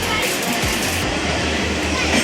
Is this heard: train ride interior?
yes